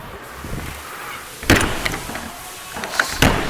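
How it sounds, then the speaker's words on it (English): A door on a Flagstaff Classic 832CLSB travel trailer is slammed shut and latched: a sharp, close bang followed by a smaller rattle and a second firm knock as it catches, with quiet outdoor ambience in between. "Slam lock your door, lock and deadbolt your door."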